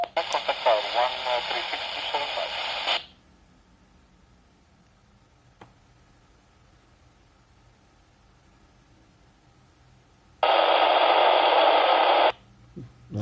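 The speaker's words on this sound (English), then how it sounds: "That was noise in the PMR1 channel." Loud bursts of harsh static hiss from a Baofeng UV-25 handheld radio scanning the PMR1 channel come in two blocks, one at the start and another near the end, with quiet gaps and a faint click between them.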